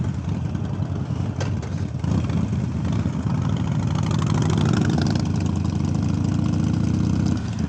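A Harley-Davidson Iron 883 motorcycle's V-twin engine idles close by with a steady, loud, low lumpy rumble that thickens slightly toward the end, with no talk over it.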